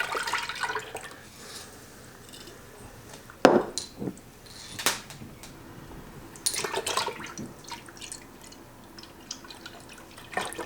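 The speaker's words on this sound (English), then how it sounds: "so I'm going to add a 1/2 cup of water" Water splashes into grape juice in a pot during home water-bath canning, with a few short pouring bursts and drips at close range and quiet gaps between them.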